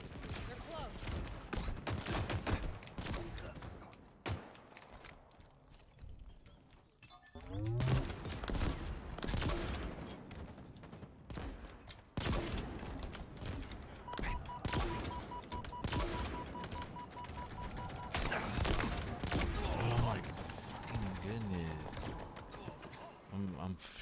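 Halo Infinite multiplayer gunfire: near-continuous rapid weapon bursts and rattling shots over about twenty seconds, loud and dense, with a voice now and then under the fighting.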